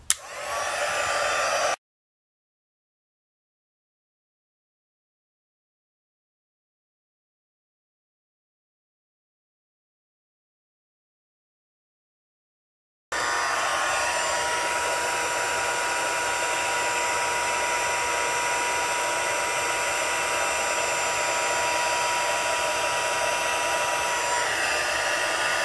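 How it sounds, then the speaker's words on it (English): A Stampin' Up! heat tool blows over a card in a steady, loud, even whir, running briefly, cutting to silence, then resuming for a long unbroken stretch with no talking. "I turn on my heat tool, let it heat up for a few seconds, and then apply it to my card."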